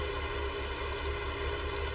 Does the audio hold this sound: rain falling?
yes